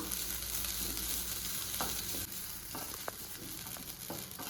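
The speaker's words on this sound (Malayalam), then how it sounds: "നാളികേരം ചേർത്തിട്ട് നന്നായിട്ടൊന്ന് ഇളക്കി കൊടുക്കാം" Grated coconut stirred in a hot pan for coconut rice, giving a steady close sizzle and frying hiss with a few light scrapes of the spoon against the pan, and no voices.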